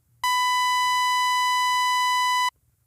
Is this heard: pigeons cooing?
no